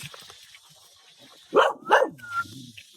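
A dog gives two or three sharp barks close by, ending in a short whimpering tail, after a quiet stretch of faint room sound.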